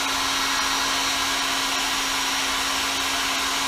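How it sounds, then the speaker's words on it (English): A hair dryer runs steadily, close and loud, with a constant airy whir and a steady hum as it shrinks heat-shrink tubing over LED leads during the restoration of a 1977 Pioneer SX-525 stereo receiver. "Works really well with just a hair dryer."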